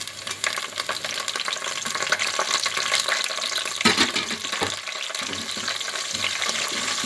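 Curry leaves added with cumin and onion to hot oil for banana fry, a dense close sizzle with spatula stirring and a sharper crackling burst midway, continuing steadily without talk.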